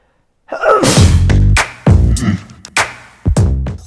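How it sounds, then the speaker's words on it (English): A loud, close sneeze bursts out at about half a second, followed by three shorter sharp exhalation or sneeze-like bursts in quick succession, with no other sound around them. "I feel like I'm gonna sneeze."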